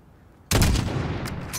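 A single sniper rifle shot is fired in the video game Call of Duty: Modern Warfare, a sudden loud crack after a quiet moment followed by a rolling echoing tail.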